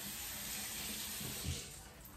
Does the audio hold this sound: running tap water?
yes